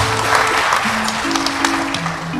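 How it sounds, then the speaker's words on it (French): An audience applauds with a short, dense, even round of clapping that stays loud and constant from start to finish, with a held musical tone playing beneath it. "Merci de l'applaudir, s'il vous plaît."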